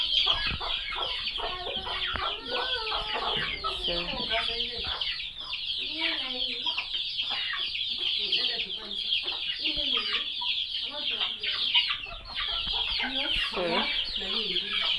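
Chickens in a village yard cluck and squawk continuously, a dense loud flock with overlapping calls and occasional crowing throughout, while birds are picked out for slaughter.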